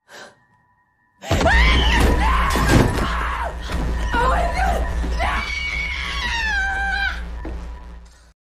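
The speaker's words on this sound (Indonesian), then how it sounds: "Laura menjerit ketakutan karena dia melihat iblis itu muncul" A woman in a horror film lets out loud, sustained screams of fear after a brief quiet opening, her shrill cries rising and wavering over several seconds.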